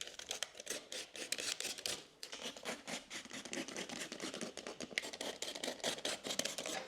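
Plasterboard being cut at the back with a knife, a close, continuous run of rough scraping and snapping strokes, with no talking.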